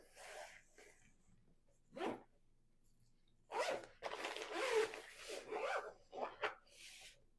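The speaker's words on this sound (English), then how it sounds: "I'm just going to pick it up, put it in there, and then I'm just going to zip it up" A zipper is pulled closed on a bag holding a resting pulled pork, several short rasping zips in separate bursts, with a longer run of zipping near the end, close and clear against a quiet background.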